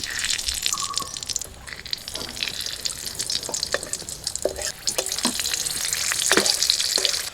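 Nigella seeds and two green chilies hit hot oil in a wok, producing a close, bright crackling sizzle with sharp spitting pops scattered throughout and a slight rise in intensity near the end.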